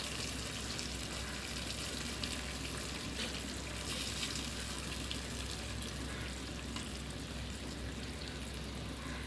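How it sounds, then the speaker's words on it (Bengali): Marinated hilsa fish going into a simmering mustard and poppy seed paste sauce on a low flame, giving a loud, steady, continuous sizzle and bubbling hiss throughout with no breaks and no talking. "এবারে এই পর্যায়ে দিয়ে দিব মাছগুলো ম্যারিনেট করা"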